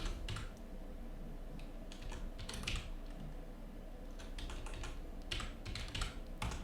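Patient details being typed into appointment software on a computer keyboard, with quick clusters of close key clicks broken by brief pauses, steady and alone with no voices.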